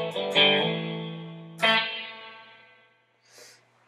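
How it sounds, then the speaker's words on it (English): Electric guitar chords through an AC Box amp model in Guitar Rig 4 ring out with a long, washy reverb tail, two strums decaying slowly, followed by a faint brushed hit near the end. "So I like to add a little reverb to kind of smoothen out."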